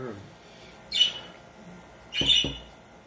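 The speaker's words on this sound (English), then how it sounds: "We have parakeets." Pet parakeets let out two short, harsh squawks about a second apart, moderately loud against a quiet indoor background.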